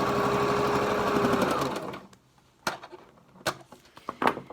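A sewing machine runs a very narrow stitch along the bottom edge of a mask made from Halyard fabric. It gives a close, steady whirring rattle for about two seconds, then stops, and a few sharp clicks and taps follow in the quiet.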